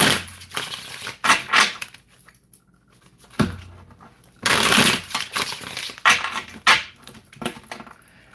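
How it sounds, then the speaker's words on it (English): Tarot cards being shuffled by hand at close range, in several quick bursts of riffling and sliding with short pauses between them and a faint voice in places. "let me shuffle these cards"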